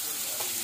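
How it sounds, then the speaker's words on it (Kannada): Onions fry in oil in a pan with a dense, steady sizzle, close and even for a brief moment. "ಆನಿಯನ್ ಹಾಕ್ಕೊಂಡು ಫ್ರೈ ಮಾಡಬೇಕು"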